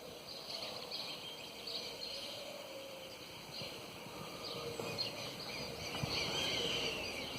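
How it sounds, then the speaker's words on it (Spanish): Many birds chirping and calling in a quiet village, thin high twitters scattered over a soft steady background, fairly distant and unbroken throughout. "Acá hay muchos pájaros y mucha naturaleza."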